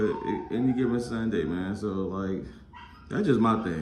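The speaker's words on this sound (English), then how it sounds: "Excuse my dog crying when I go outside." A pet dog whimpers and cries in the background while someone talks continuously over it, the dog's plaintive whines mostly buried beneath his voice.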